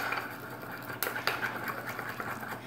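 A spoon stirs a thick sauce of mustard and vinegar in a bowl, giving close, continuous scraping and swishing with a couple of sharp clinks against the bowl.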